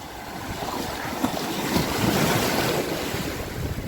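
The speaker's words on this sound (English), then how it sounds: "They're not big, the waves, but they're just enough to splash back" Small ocean waves splash against the shore in a steady, rushing wash, close and fairly loud, with gusty wind buffeting the microphone and no talking.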